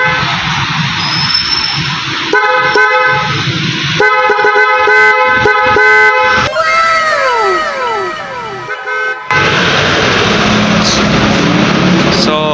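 A GSE dual horn fitted to an EXU 110 motorbike blasts in a series of loud, sustained honks of varying length, with short pauses between them and faint engine noise beneath.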